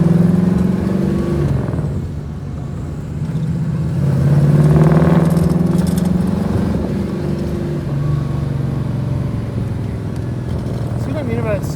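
A 1957 Corvette engine fitted with Sniper fuel injection idles and runs steadily after tuning, a loud close rumble with a brief rise in revs, while people talk over it.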